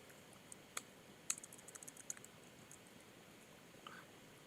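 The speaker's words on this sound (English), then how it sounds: "we'll type Rancher on that for our username and whatever password we set up" Someone types a username on a computer keyboard: a faint, sparse series of quick key clicks in a quiet room, a few taps bunched together and then a last soft tap.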